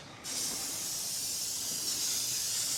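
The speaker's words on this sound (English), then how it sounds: "we're supposed to spray kind of a lightish coat on both of these" Contact adhesive sprayed from an aerosol can onto a boat seat being rebuilt, heard as a steady close hiss that starts suddenly after a brief pause and continues evenly.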